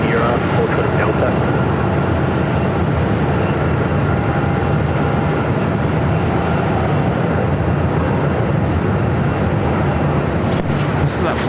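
An airliner taxiing back toward the gates at Phoenix Sky Harbor airport gives a steady, loud jet engine rumble and whine throughout, with a broad continuous roar and no break.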